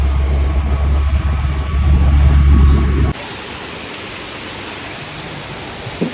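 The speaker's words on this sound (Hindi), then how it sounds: "बहुत तेज बारिश पड़ रही है।" Heavy rain pours in a loud, steady wash with a low rumble, then drops abruptly to a quieter, hissing downpour for the rest of the clip.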